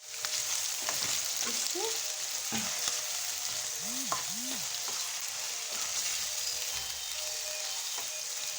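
Food frying in a generous amount of hot oil gives a steady, close crackling sizzle that runs unbroken throughout, with a single short word spoken briefly over it.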